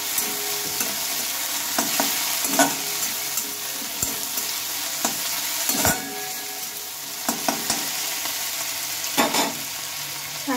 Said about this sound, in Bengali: টমেটোটা দিয়ে নিলাম, একটু নেড়ে চেড়ে দেবো।